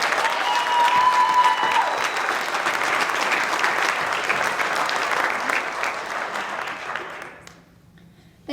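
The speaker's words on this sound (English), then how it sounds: "Please join me in thanking them with a round of applause." An audience at a high school National Honor Society induction ceremony applauds steadily and loudly for about seven seconds before the clapping fades out.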